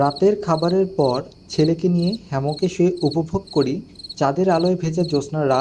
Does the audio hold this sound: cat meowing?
no